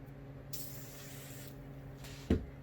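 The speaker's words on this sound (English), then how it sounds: "I'm just going to spray" A few quick hissing sprays from a spray bottle onto quilt fabric, close by, with a short knock near the end in an otherwise quiet room.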